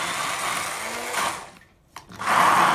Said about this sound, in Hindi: अब इसको मैं ब्लेंड कर लूँगी।